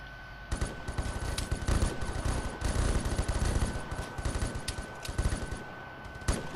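Rapid automatic gunfire in the shooter game Vigor crackles in dense, loud bursts, with short pauses between volleys and a sharp final shot near the end.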